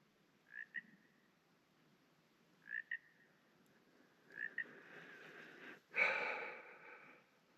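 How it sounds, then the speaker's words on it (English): A frog croaks in short, spaced calls against a quiet night background on the Pacific Crest Trail, followed by a louder breathy rustle near the end. "There's obviously a frog also."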